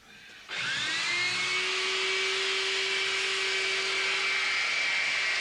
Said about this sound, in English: It'll need hoovering.